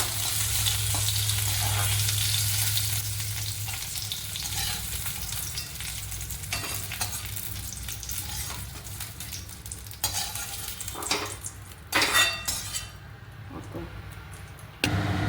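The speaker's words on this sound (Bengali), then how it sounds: "এবার কিশমিশটাও দিয়ে দিচ্ছি। এইভাবে আমি সব ড্রাই ফ্রুটগুলো একটুখানি ভেজে নিলাম।" Raisins and other dried fruits fry in a pan for sago payesh, giving a steady close sizzle with occasional stirring and scraping, a few sharper utensil clicks near the end, and no talking.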